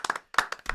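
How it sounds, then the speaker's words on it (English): A few hands clap for a guest on a football talk show, several sharp claps in two short bursts with a gap between, close by and fairly quiet. "we'll give him a clap"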